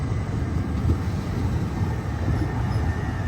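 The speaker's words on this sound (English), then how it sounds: "We're going to have to get on this train." A train stands at a station platform near Wanstead Park, giving off a loud, steady low rumble with a faint high whine running through it and no voices.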